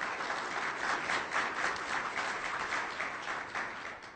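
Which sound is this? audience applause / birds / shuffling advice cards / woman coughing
audience applause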